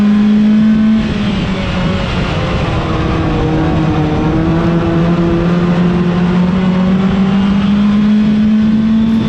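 A drag-style race car engine drones steadily at high rpm, its pitch climbing slowly with a rough, uneven crackle from an ignition misfire running through the whole stretch, loud and close with no talking.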